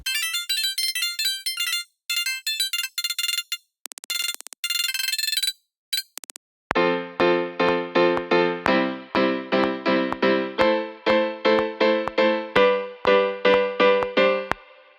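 After a few bright, high synthetic tones and short bursts, a keyboard plays a string of repeated chords in an uneven rhythm, clear and alone.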